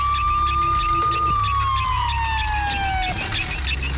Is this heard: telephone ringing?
no